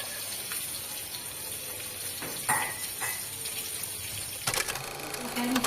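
Fresh leafy greens are washed by hand in water in a village kitchen, with soft splashing, rustling and a few sharper knocks of a container, fairly quiet against a steady background hiss.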